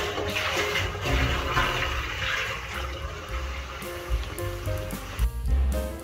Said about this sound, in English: Time to pump it in the water tower and see how much it holds